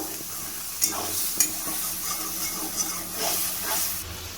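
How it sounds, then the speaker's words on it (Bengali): Cooked masala for a prawn, okra and potato dish is stirred in a hot pan, with a continuous sizzle and hiss broken by several sharp scraping strokes of a spoon against the pan. "আমি আর একটু ভালো করে নাড়িয়ে নেব"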